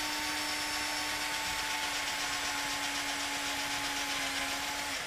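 A power drill bores through a bracket into an aircraft wing rib, a steady high motor whine running for about five seconds at a moderate, close level, with no speech.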